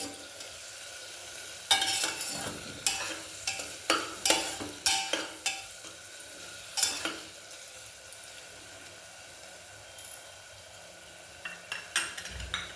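Onions frying with salt and turmeric in a pan for mutton keema, with a steady low sizzle under repeated sharp scrapes and clinks of a spoon against the metal, in uneven bursts.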